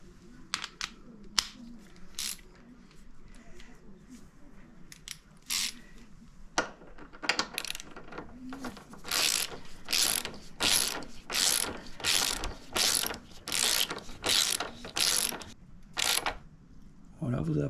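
A suspension bolt is screwed into an Indian Scout motorcycle with a ratchet wrench, a few scattered clicks at first, then a fast run of rhythmic ratcheting bursts, close and clear.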